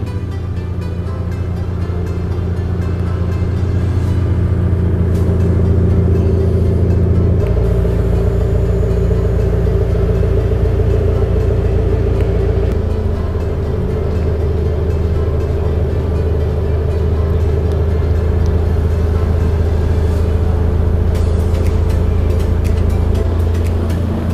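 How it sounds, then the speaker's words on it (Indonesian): A steady low mechanical hum with a couple of distinct shifts in pitch as a modified Hyundai coupe's remote air suspension lowers the front, then the rear, with no talking. "Jadi untuk turunin mobil ini tinggal kita remote aja."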